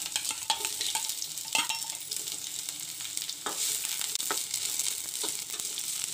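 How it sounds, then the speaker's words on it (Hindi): Onions and mixed vegetables fry in two spoons of oil for a semolina snack, giving a steady close sizzle broken by several sharp stirring scrapes and clinks of a spoon against the pan, with no talking. "2 चम्मच तेल ऐड करूँगी सब्जी भूनने के लिए। प्याज ऐड कर रही"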